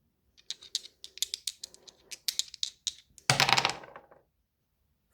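A 6-sided and a 12-sided die rattle as a rapid run of light clicks, then clatter in one louder burst that fades out, close and without speech.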